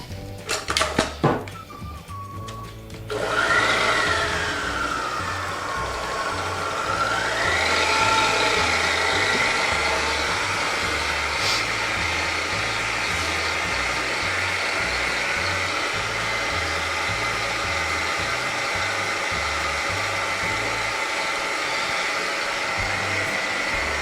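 After a brief clatter, a stand mixer churning challah bread dough hums at a steady medium speed, its motor whirring and gears rattling rhythmically, loud and close for a long unbroken stretch.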